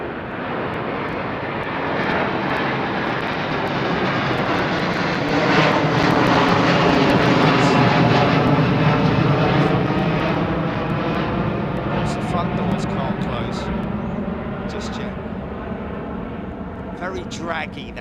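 Airliner on approach to London Heathrow in dirty configuration, flaps and gear out, a loud sustained broadband engine roar that swells mid-pass and slowly fades, with faint voices underneath.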